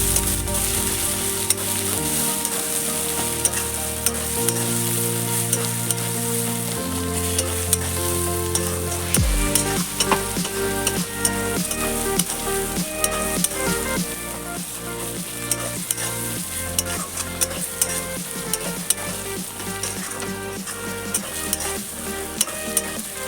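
Spiced chicken curry masala with ground cumin being sautéed in a pan: loud continuous sizzling with rapid, rhythmic scraping and clattering stir strokes that grow busier partway through, close and without voices.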